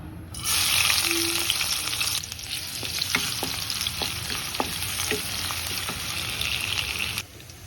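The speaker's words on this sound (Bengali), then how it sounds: "এদিকে তেল গরম করতে দিছি প্রথমে পেঁয়াজ দিয়ে দেব" Chopped onions hitting hot oil in a pan for a spiced potato and shrimp curry, a loud steady sizzle from start to finish with a few scraping stirs and small clinks partway through.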